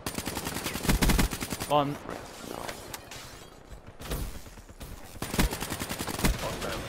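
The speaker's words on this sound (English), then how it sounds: "I think that's a submachine gun." Submachine gun fire in Call of Duty Black Ops 3 multiplayer Hardpoint, with rapid automatic bursts that stop and restart, loud and close, and a player's voice speaking briefly between them.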